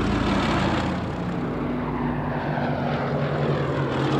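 WWII fighter aircraft propeller engines over Dover drone in a loud, steady roar with pulsing low tones, as if several planes pass close overhead, with no voices.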